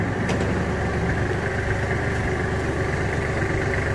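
Kubota GL23 mini tractor engine idling with the PTO-driven tiller engaged, a steady low diesel rumble with mechanical whir, close and constant with no talk.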